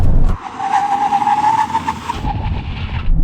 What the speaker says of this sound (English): Here we go, 60 miles an hour, full emergency stop now.